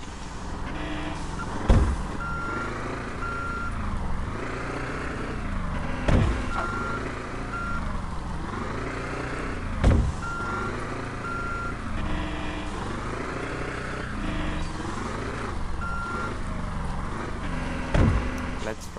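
In the Sneaky Sasquatch video game, a pickup truck's engine hums in a looping pattern while a reversing beep sounds at a steady rhythm, with a heavier thump recurring every few seconds.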